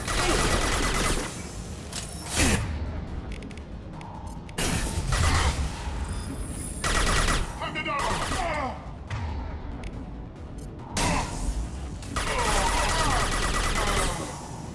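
Gunfire in the Mass Effect 2 Legendary Edition video game, repeated rapid bursts of automatic fire broken by short pauses, with sharp impacts and clatter between volleys.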